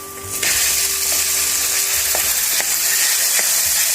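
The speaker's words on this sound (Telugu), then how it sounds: "ఇలా మంచిగా కలుపుకోవాలి ఇవి వేడైతున్న కొద్దీ విడిపోతాయి" Boiled rice dumplings (undralu) with turmeric sizzle and fry in a hot pan as they are stirred, a steady loud hiss broken by a few scraping knocks of the spoon against the pan.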